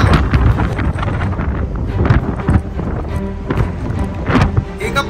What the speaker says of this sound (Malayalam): പിന്നെ നല്ല തണുത്ത കാറ്റുണ്ട്